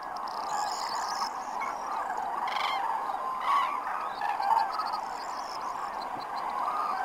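Tens of thousands of cranes and geese resting on water at night in wintry Iberia, a distant continuous chorus of honking and trumpeting calls with a few louder cries rising out of the steady mass.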